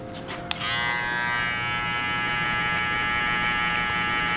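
Hair clippers fitted with a 1.5 guard, cutting a burst fade, switch on with a click and then run as a steady, close electric buzz with a bright whine, holding evenly to the end.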